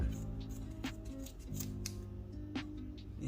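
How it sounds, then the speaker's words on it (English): Scissors snip through yarn while a tassel earring is being made, a few short crisp cuts at close range over a low background hum. "Now I go in and cut."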